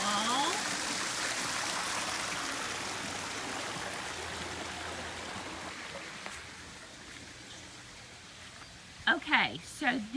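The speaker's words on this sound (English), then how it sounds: "And there's the waterfall." Water splashing steadily from a small garden pond waterfall, a continuous rushing wash that fades slightly over time, with brief voices and movement near the end.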